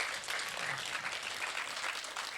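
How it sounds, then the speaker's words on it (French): Audience applause following a speech at a women's association event, a steady wash of many hands clapping together, moderately loud and continuous for the short span, with no speech over it. "On peut l'applaudir."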